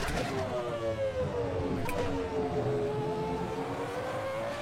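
Race car engine in a racing video game, a loud continuous high-revving drone with pitch sweeping down then rising as the car brakes and accelerates through a corner.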